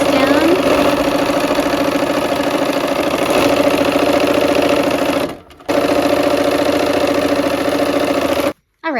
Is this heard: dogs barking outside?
no